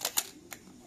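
A Nikon FTn fully mechanical film camera fires its shutter at 1/8 second: a pair of sharp clicks close together, then one lighter click a moment later, close up in a quiet room.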